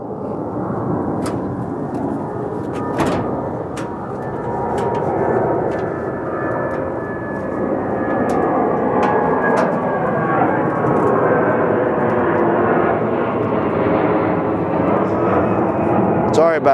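A loud airplane roars overhead near McCarran Airport in Las Vegas, a broad rushing drone that swells and lingers for many seconds, with scattered clicks and knocks nearby.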